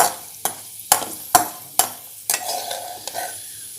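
Cashews and raisins fry in hot ghee for rice payasam, a soft steady sizzle broken by sharp periodic clinks and scrapes of a spoon stirring the pan, close and with no talk.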